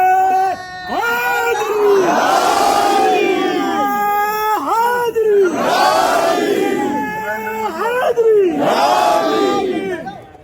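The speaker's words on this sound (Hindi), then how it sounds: "भाइयों, तालियां मत बजाना, बस नारे लगाते रहना।" Large crowd at a rally after Friday prayers chanting slogans in unison, three loud call-and-response waves of massed voices rising and falling, with a leader's voice leading each shout.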